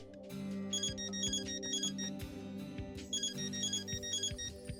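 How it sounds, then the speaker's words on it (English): A phone ringtone in the video game Death End Re;Quest, a bright repeating electronic melody over a sustained low musical drone, steady and prominent with no speech. "A phone call?"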